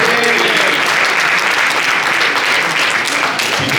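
An audience claps in a dense, loud burst of applause that stays steady throughout, with no talk on top of it.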